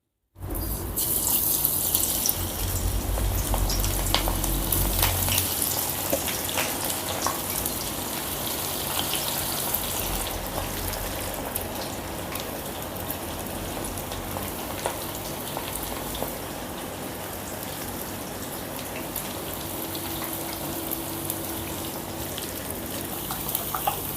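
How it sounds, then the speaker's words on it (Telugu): Pakoda fritters fry in oil on a medium flame with a dense, steady bubbling hiss. It starts abruptly and holds loud and close for over twenty seconds with no voices. "మీడియం ఫ్లేమ్లోని పెట్టుకొని ఫ్రై చేసుకోవాలి ఇప్పుడు వేసేసుకున్నాం"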